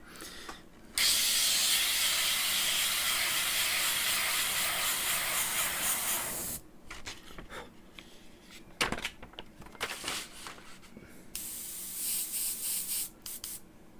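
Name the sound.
paint sprayer spraying paint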